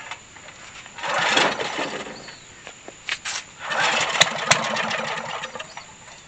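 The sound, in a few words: old generator engine being started after years unused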